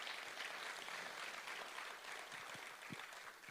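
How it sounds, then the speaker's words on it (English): Sustained audience applause after a performance at the Studio Theatre, Theatre Royal, Hobart, during an awards evening, a steady dense wash of many hands clapping, moderately distant and even throughout. "Give them a round of applause"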